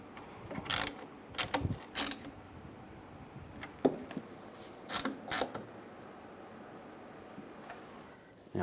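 Fasteners being snugged down on the front bumper cover of a 1998-2010 Volkswagen Beetle, giving scattered short ratcheting clicks and mechanical ticks in irregular bursts, fairly close and quiet, with no talk.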